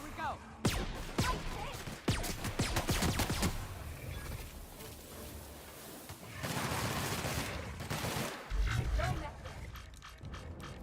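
Sci-fi gunfire fills a firefight in The Outer Worlds: rapid shot bursts and grunting enemies come in loud clusters, with pauses in between and game sounds all around.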